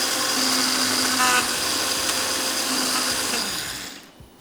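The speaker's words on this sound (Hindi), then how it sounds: "मसाला यहाँ पे थोड़ा सा और पीस लेते हैं, बिल्कुल फाइन पाउडर बनाना है।" Electric grinder whirring loudly and steadily as it grinds spice masala into fine powder for galawati kabab, then winding down at the end.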